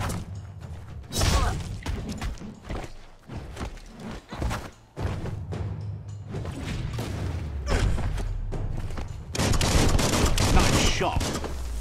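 Gunfire in the Biomutant video game, rapid bursts of shots and heavy thuds through mechanical clatter and game noise, loud and dense throughout.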